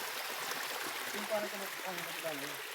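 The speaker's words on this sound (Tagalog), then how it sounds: "Puro talon pala rito." Rushing water from a waterfall and a flowing stream along a rough riverside path on a fishing trip, a steady broadband wash heard up close with faint voices underneath.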